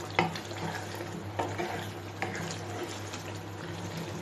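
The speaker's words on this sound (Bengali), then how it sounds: "নেড়ে চেড়ে সবগুলোকে একসাথে মিশিয়ে নিচ্ছি।" Beef korma with milk powder being stirred in a pot for Eid: a spoon scrapes and clacks against the pan a few times over a steady bubbling, sizzling cooking hiss, close and moderately loud.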